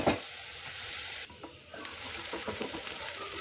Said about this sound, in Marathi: कांदा हा आपल्याला ब्राऊन कलरचा होईपर्यंत फ्राय करून घ्यायचा आहे।